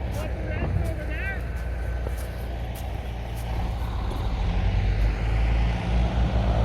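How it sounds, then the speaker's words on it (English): A small tractor engine labours steadily while climbing a ramp, a loud continuous drone that grows slightly toward the end, with a voice speaking over it and faint beeps early on. "Let's see this little tractor climb up here."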